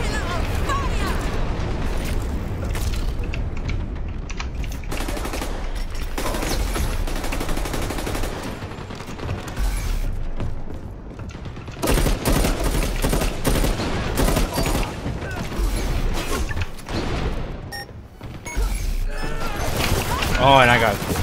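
Kira's pillar of fire strike in the Dirty Bomb shooter, heard as dense, continuous gunfire bursts and booming impacts throughout, loud and close, with voices speaking over the battle noise.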